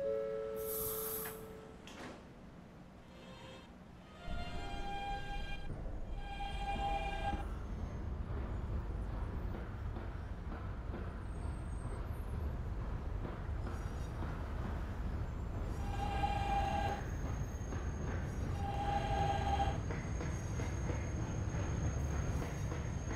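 A subway train arriving at Booth Street station, rumbling and clattering along, with rising and falling tonal squeals and chimes, a low steady roar underneath that grows slightly louder toward the end.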